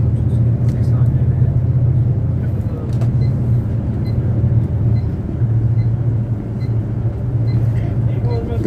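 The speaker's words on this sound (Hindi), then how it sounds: "तो आप देखें कैसे एक काफ़िले की सूरत में गाड़ियाँ जो हैं वो जा रही हैं।" Steady low road rumble of a line of commercial vehicles travelling in convoy near Kallar Kahar, continuous and fairly loud with no talk, engines and tyres blending into one constant drone.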